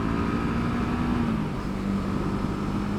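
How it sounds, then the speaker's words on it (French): A Brixton Crossfire 500 motorcycle engine running steadily with a droning tone that dips slightly in pitch, then holds at a constant moderate level as if cruising, with no talk over it. "Le son de ce petit moteur qui vous invite juste à essorer la poignée."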